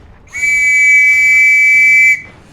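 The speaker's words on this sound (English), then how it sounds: "And when I blow this whistle, the push will commence." A British-issue officer's whistle blown once in a single loud, steady shrill blast of nearly two seconds, close and clear with no talk, signalling an infantry push in a Company of Heroes 2 match.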